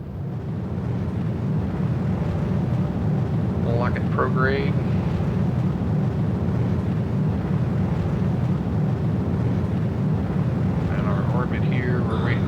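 A rocket engine in the game Simple Rockets 2 throttles up into a loud, steady, low roar that holds for the whole stretch, with someone talking briefly over it.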